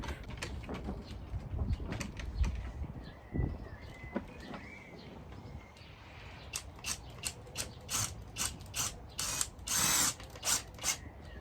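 Small screws being turned in by hand after twine is wrapped around them, during a square-foot gardening setup in a polytunnel: faint clicks and ratcheting scrapes in uneven bursts, with brighter metallic ticks toward the end.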